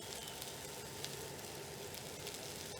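Garlic sizzling in a pan with mushrooms, a steady, dense frying hiss throughout with small crackles, close and even, with no talking.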